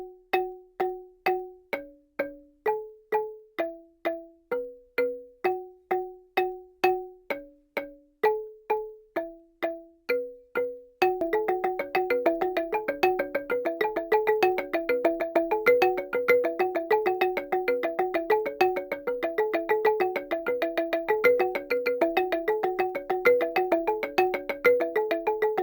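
An amadinda log xylophone sounds alone as a sparse line of bright, wooden struck notes in a slow repeating pattern. A second interlocking part then joins and fills the gaps, creating a fast, dense stream of evenly spaced notes.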